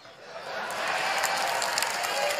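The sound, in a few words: audience applause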